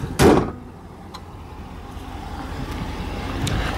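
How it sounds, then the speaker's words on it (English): The hood of a 2016 Ram 2500 Lone Star pickup slams shut with a single loud thud early on, followed by quiet outdoor ambience. "So, we're going to shut the hood here."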